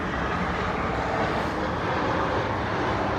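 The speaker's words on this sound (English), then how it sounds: "We got a plane going overhead right now." A loud, steady roar of an airplane passing low overhead next to an airport, filling the whole clip with broad engine noise and no talking.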